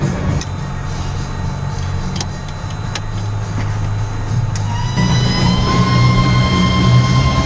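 Aircraft fuel pumps run during a fuel leak check at a 100-hour inspection, giving a steady electric hum with a whining tone that rises slightly and grows a little louder partway through, continuous and close.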